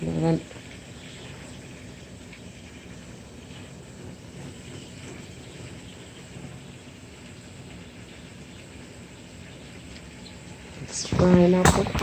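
Johnny cakes, or fried dumplings, sizzle in a pot of hot oil with a steady, dense crackling hiss throughout, close up, and a louder clatter and bubbling burst near the end.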